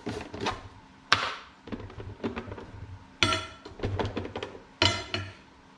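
Sharp metallic hammer blows strike material on a steel plate at irregular intervals, each hit ringing briefly, with scraping and shuffling sounds between them.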